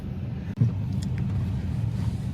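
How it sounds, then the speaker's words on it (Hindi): Road traffic beside a bus outside a haveli stop on a road trip to Dalhousie: a close, steady car engine rumble with a brief dip and a low thump partway through. "यहाँ पे थोड़ा सा ट्रैफिक आई गेस इस बस के वजह से"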